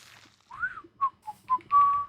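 Someone whistles a short, close melody of about five bright notes, a rising slide followed by quick chirps and a longer held final tone, clear over near silence.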